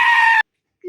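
A sheep or goat-like animal bleats in a two-player survival video game, one loud, strained cry lasting under half a second, followed by silence and a short low tone at the end.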